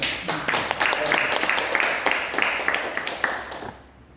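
A church congregation applauds during a regular prayer meeting, scattered hand claps forming a fairly dense, steady round of applause that thins out and fades near the end.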